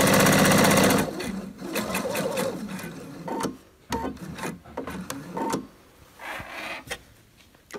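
A sewing machine runs a short fast stitching burst along a long vest's pocket seam, then stops, followed by scattered clicks, rubbing fabric and brief start-stop mechanical sounds nearby.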